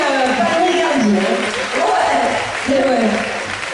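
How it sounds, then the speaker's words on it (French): A crowd at a gala claps steadily while voices talk over the applause, the clapping holding at a moderate level throughout. "on peut l'applaudir, ce monsieur"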